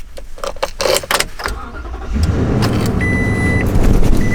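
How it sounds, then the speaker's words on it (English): Toyota Tundra pickup truck engine cranking and firing up after some clicks and rustling, then settling into a steady, loud, close idle. "I love the way those Tundras sound when you start them up"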